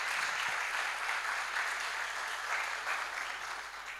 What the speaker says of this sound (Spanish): Le damos un aplauso también de bienvenida a Marcelo.